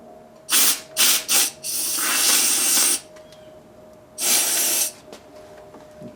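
Vinegar spits and sprays from a fitting on a homemade water-cooled Briggs engine: three short hissing bursts, a longer rushing spray, then another sustained hiss after a pause.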